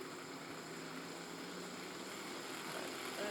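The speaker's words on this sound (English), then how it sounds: "the loco starts accelerating on its own until I put it back to 0" A USA Trains G scale GP9 model locomotive with a Digitools DCC sound decoder gives a steady, faint diesel engine drone that swells slightly as it accelerates, with no talk.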